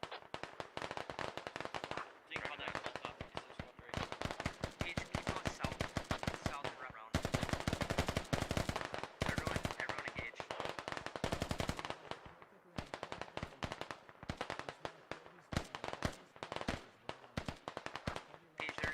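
Gunfire in the military video game Squad crackles in long, loud bursts of rapid automatic shots, near and dense, with brief pauses between volleys.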